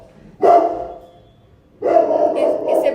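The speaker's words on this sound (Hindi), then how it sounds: "इससे भौंकना होता है हमेशा" A dog barks nearby in two bursts, a short single bark followed by a longer run of loud barking.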